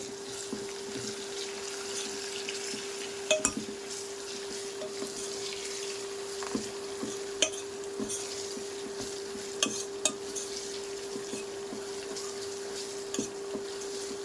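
Curry leaves, mustard seeds, dried red chilies and garlic temper in a little oil for a gongura dried-prawn pickle, making a soft continuous sizzle with scattered pops and spoon clicks against the pan.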